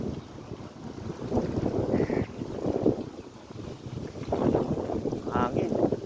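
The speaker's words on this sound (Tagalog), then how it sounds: "Hangin." Gusting wind during a sandstorm in Dubai, UAE, blows in uneven surges against the microphone, rising and falling in loud whooshes with a faint voice underneath.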